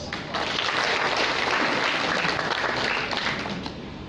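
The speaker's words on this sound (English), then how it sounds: "our benefactors a round of applause" A crowd at a launch event for the #OgopMarawi relief effort gives loud, continuous applause for its benefactors, the clapping starting abruptly just after the beginning and holding a thick steady roar before easing slightly at the close.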